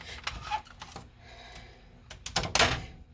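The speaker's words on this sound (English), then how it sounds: "I'm going to get my tape. And yes, this is heat tape." Heat tape is pulled off its roll and pressed onto a sublimation skinny tumbler. There are close, crackly bursts of peeling tape, ending in a sharper, louder rip, with no talking.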